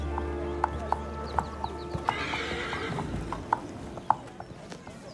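Steady horse hooves clip-clopping at an even walking pace at a riding school, fairly close, with a brief burst of broadband noise midway and faint voices underneath.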